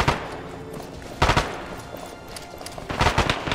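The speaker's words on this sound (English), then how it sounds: "But somebody else is shooting at us." Gunfire in the military shooter game Arma 3, with bursts of shots at the start, in the middle and near the end over a steady background of distant firing.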